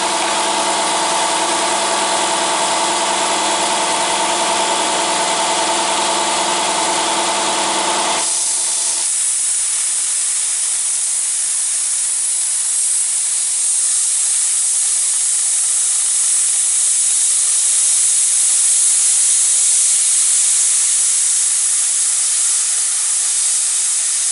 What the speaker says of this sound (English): when I go a lot slower, it cuts through that 1/2 inch aluminum